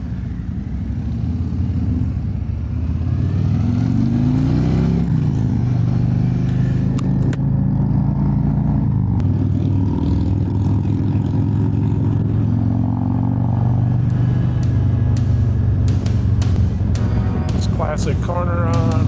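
Classic cars and hot rods on a road run pull away and drive up the road, engines revving and shifting through gears in a loud sustained roar with clattering, while a person talks over it.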